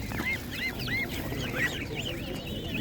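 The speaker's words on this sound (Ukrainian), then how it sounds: "Гуси 250 і 220. 250 більше, 220 менше. Телефонуйте, гуси дуже класні." Geese honk repeatedly at an outdoor market, a run of nasal calls close by over crowd murmur and faint talk.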